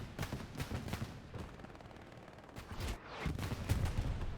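Anti-tank cannons and gunfire in the World War II shooter Hell Let Loose on the Hurtgen map, rapid bursts of distant shots and booms in repeated clusters, fairly faint.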